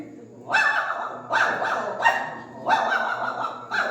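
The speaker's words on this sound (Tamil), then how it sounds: "போலீஸ் நாய் ஒரிஜினல்" A dog barks in four or five sharp bursts at an uneven pace, fairly close, with a faint low hum underneath.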